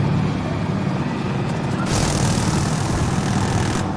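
An enemy helicopter in the video game Insurgency Sandstorm gives a loud, steady rotor drone that fills the clip alongside continuous rumbling game noise, and the sound brightens abruptly halfway through.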